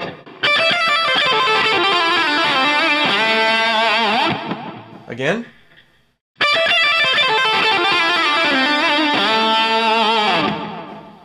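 A fast, smooth distorted electric guitar lick played twice at full speed, separated by a short pause with a brief spoken word.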